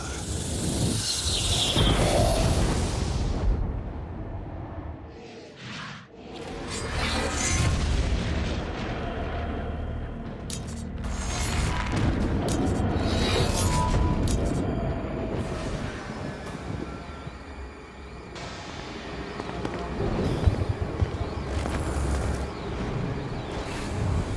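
Stygian cold fire power explosions in Saints Row Gat Out of Hell on Xbox Series S: repeated heavy booms and bursts rolling one into another, loud and dense throughout, with brief dips between blasts.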